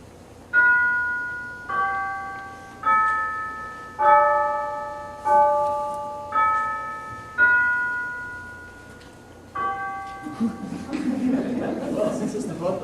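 A doorbell chime in an old radio drama plays a series of clear, ringing tones in a steady rhythm, each decaying before the next, followed by a muffled rustle and murmur of voices at the end.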